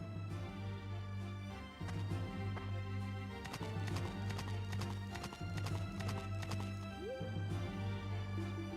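Horse hooves clip-clop in a steady looping rhythm in the Berwick Saga video game, with a whinny near the end, all close and clear over game music.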